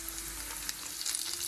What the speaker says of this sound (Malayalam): ചിക്കൻ ഇതാ നന്നായിട്ട് ഫ്രൈ ആയിട്ട് വന്നിട്ടുണ്ട്.